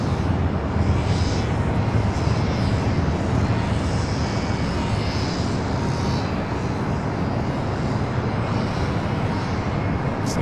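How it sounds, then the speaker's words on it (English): A Delta Airlines Boeing 737-900ER on a sports charter flight roars down the runway on takeoff at Los Angeles International Airport, a loud, sustained, broadband jet engine rumble with steady intensity and no voices. "The next takeoff is the sports charter, Delta Airlines Flight 8801, heading to Indianapolis, Indiana, 737-900ER."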